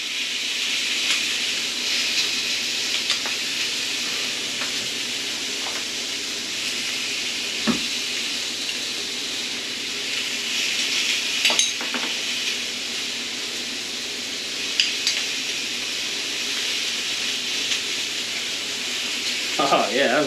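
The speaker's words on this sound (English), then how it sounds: "Put some garlic in there again." Garlic sizzles and fries steadily in a hot pan while chicken alfredo is being cooked, a constant close hiss with a few brief clinks and stirring knocks along the way.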